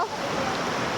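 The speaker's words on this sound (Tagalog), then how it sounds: "malakas ang tubig dahil katatapos lang ng ulan" A strong-flowing stream swollen after a night of heavy rain, giving a steady, close rushing wash of water with no breaks.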